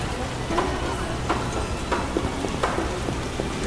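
Rainfall in The Witcher video game, a soft even hiss with faint scattered ticks of drops, moderately quiet and continuous.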